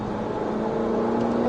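A Ferrari 488 GTB accelerates on a track, its engine giving a steady rising hum with a clear tonal whine, heard from inside the car.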